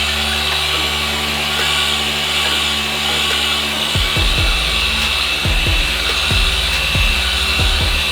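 A power polisher whirs steadily, polishing the paint on an abandoned Mazda RX7 under restoration, with low thumping bumps and shifts in pitch in the second half as the pad works the panel.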